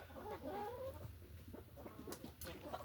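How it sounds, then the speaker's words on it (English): Rooster in an indoor coop giving short throaty clucks and warbling calls, close by and fairly quiet, with scratching and rustling in between. "But the rooster's in here."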